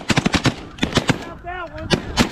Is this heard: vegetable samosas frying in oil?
no